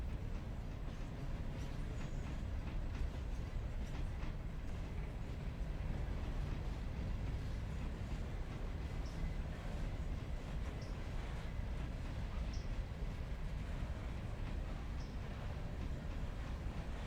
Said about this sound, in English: We're just gonna stop this train here.